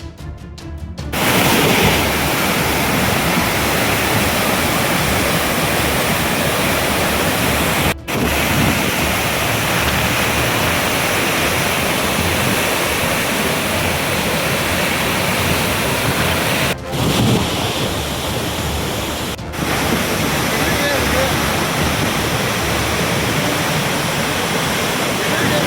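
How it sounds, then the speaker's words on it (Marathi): Dudhsagar waterfall in heavy flood roars with a dense, unbroken wash of falling water, loud and close, and a few brief dips in the otherwise constant rush. "दूधसागर धबधबा आहे हा जगप्रसिद्ध दूधसागर धबधबा आहे।"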